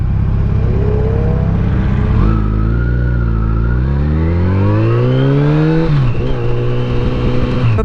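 Sport-touring motorcycle engine, a Yamaha FJR1300 or Honda ST1300, revving loudly and steadily close by, its pitch climbing through several rising sweeps before dropping back and settling into a lower drone.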